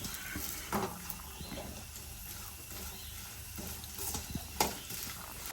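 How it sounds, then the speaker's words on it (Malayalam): Soft, steady sizzling of grated coconut frying in oil in a pan, faint and close, with a few scraping stirs cutting through. "തേങ്ങ ഇട്ടു തേങ്ങ ഇങ്ങനെ വറുത്തെടുക്കുക"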